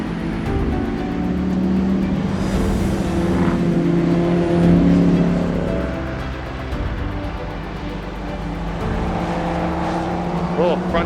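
A race car engine drones steadily during a 24 Hours of LeMons endurance race, heard from inside the car as a loud, continuous roar with slight rises in pitch, and a voice talks over it.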